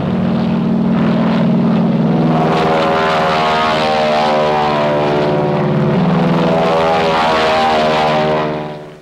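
A World War II Black Widow fighter aircraft's propeller engines drone loudly and steadily with a deep, even harmonic roar, up close, then cutting off at the end.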